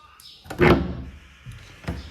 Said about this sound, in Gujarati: આ દરવાજો ખુલી જાય ને